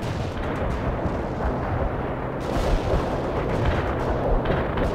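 Dense, continuous rumbling barrage from an artillery strike in the World in Conflict strategy game, with booms layering over one another across the whole span and no talk.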